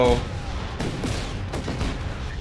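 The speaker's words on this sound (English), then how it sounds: "I just ran into an explosion." An explosion in the video game Just Cause 3, a loud, dense burst of blasts and rumbling booms filling the whole moment, close and continuous with sharp cracks layered through it.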